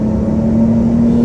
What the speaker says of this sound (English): Okay, now we're dropping gears here.